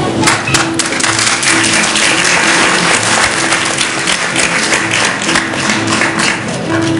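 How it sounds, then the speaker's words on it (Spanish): A large audience applauds steadily and loudly at a stage presentation of the telenovela La Madrastra, with dense, continuous clapping that never lets up. "¡Ganas de aplaudir! Pues eso es lo que está sucediendo en este momento."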